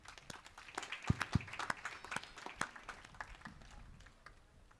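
A church congregation claps at a chapel feast-day mass. The applause is faint and scattered, with irregular sharp claps rising briefly and then thinning out.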